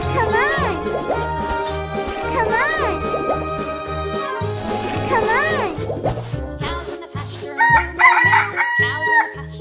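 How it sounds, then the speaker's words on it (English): A cartoon chicken in a playful animal-transformation animation crows in long, wavering calls, repeating several times over a bouncy musical backing with a steady beat. "Chicken."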